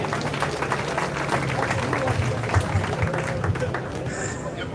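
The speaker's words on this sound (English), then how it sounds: "give them a big round of applause, ladies and gentlemen" Audience applause for Kingston College old boys at a centenary 5K run/walk event, a steady wash of clapping and crowd babble lasting throughout, with hubbub underneath.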